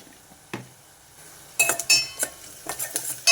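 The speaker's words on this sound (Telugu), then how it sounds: "ఇది చక్కగా కలిపేసుకోవాలి." A spoon clinks and scrapes against a curry pan while onions, curry leaves and turmeric are stirred, a faint sizzle beneath, the clatter arriving in irregular bursts after a quiet start.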